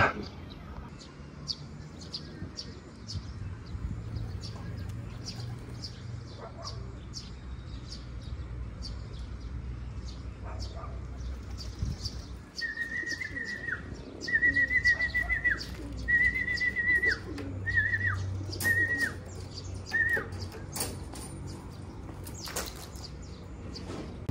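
Racing pigeons arrive at a loft in Lopez, Quezon after a 144 km race, with bird calls, a run of short whistled tones midway and faint outdoor noise around them.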